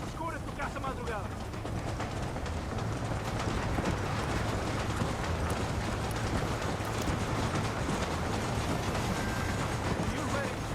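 A steady, loud rumble of a passing train fills the scene, with faint rhythmic clatter beneath dense background noise, in Red Dead Redemption.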